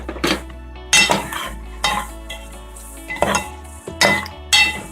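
Teaspoon of cumin seeds going into a hot pan while cooking dal palak, with several sharp clinks of a spoon against metal cookware over a low background hum and no talk.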